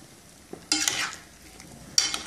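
Flour and yam cook in a pot, a soft bubbling simmer in the background broken by two brief louder stirring or scraping bursts, close by.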